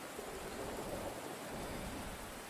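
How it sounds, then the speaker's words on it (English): Rain in the Fallout 4 video game makes a steady, dense hiss that runs unbroken, a soft, even wash with no distinct thunder crack and no talk. "Sorry, Preston, I can't hear you over the thunder and the rain."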